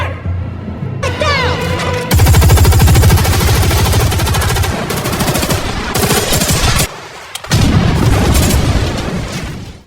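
Dense bursts of automatic gunfire from a film scene where guards fight back against armored intruders, loud and continuous with heavy booming impacts, a brief lull near the end before the shooting resumes.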